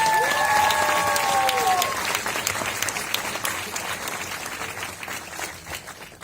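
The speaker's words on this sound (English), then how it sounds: "could we please give these students one more round of applause?" Audience applause for a group of student performers at a foundation event during a film festival, a dense wash of clapping that is loudest at the start and slowly thins and fades over several seconds, with a brief whistle near the beginning.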